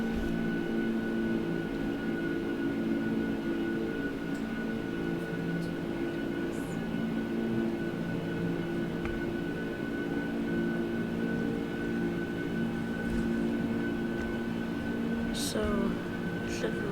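An Airbus A330 in X-Plane 12 rolling down the runway for takeoff: a steady, droning jet-engine hum with sustained tones that holds at an even level throughout.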